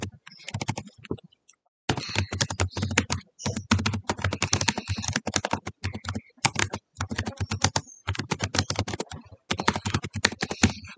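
Keys clatter in rapid, steady bursts as someone types a title on a computer keyboard in a document editor, close and clear, with brief pauses between runs of keystrokes and no talking.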